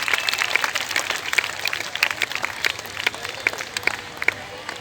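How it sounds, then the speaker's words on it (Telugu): An audience applauds at an award felicitation ceremony, with scattered, moderately loud clapping and crowd murmur continuing steadily throughout. "చప్పట్లు కొట్టండి."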